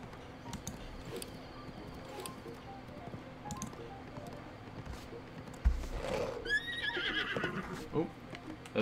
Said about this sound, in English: That's right, little tiny rocks can scare your horse.